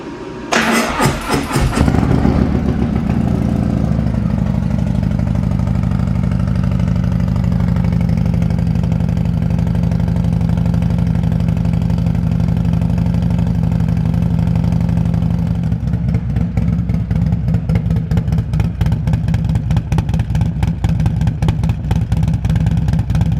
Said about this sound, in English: So I'll give you guys a little cold start here with the new S&S 475C cam.